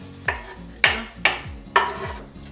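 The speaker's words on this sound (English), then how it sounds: "And then we're gonna throw in all the veggies at once." Vegetables thrown into a hot pan land with four sharp, close clattering hits, each trailing a brief scrape and sizzle, with no talking over them.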